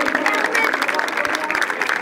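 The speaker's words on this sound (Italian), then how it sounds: "un bel applauso ancora per loro" Applause from an audience for a group of young dance performers, steady dense clapping for about two seconds with voices mixed in.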